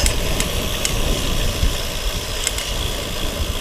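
Engine noise from a car coming up from behind a cyclist on a steep country climb in North Yorkshire, a loud continuous rumble close by, with brief wind and bike rattles over it and no speech.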